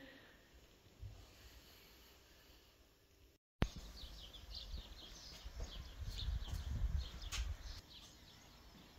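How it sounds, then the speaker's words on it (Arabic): Small birds chirping outside in spring, faint scattered tweets that come in after a short gap, against soft background rustle. "سامعين صوت العصافير؟"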